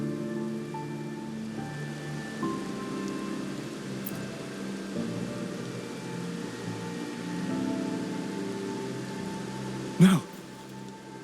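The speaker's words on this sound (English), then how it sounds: "It's the real retroact rain." Steady rainfall in the video game Wuthering Waves patters continuously beneath game music tones, with a brief sharp burst near the end.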